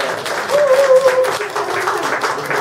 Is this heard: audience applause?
yes